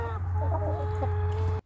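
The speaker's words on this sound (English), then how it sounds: "hear the quiet chicken mutterings in the distance" Backyard hens in an urban coop cluck and mutter in short warbling bursts over a strong steady low hum, the sound cutting off abruptly at the end.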